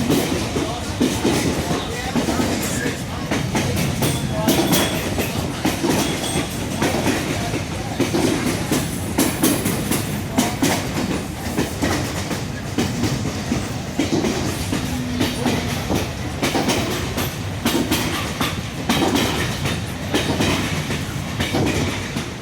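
A Lehigh Gorge scenic railway train rolls along the tracks near Nesquehoning Junction, with a steady loud rumble and rhythmic clickety-clack of wheels running continuously.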